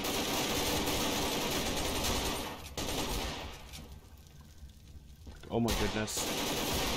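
SWAT team gunfire in Garry's Mod during a fight against a Mr. X SNPC: loud, dense rapid automatic shooting that drops away partway through, then a sharp burst returns, with a voice speaking over it.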